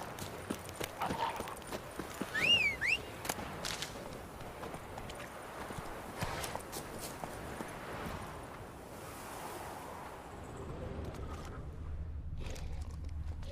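Horse hooves clip-clop steadily while riding in The Witcher 3 video game, a continuous rhythmic patter layered over wind and rushing surf-like ambience, with a brief whistling call partway through.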